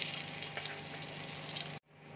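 Guava pieces frying lightly in ghee give a soft, steady sizzle with a faint hum beneath it, then cut off abruptly near the end.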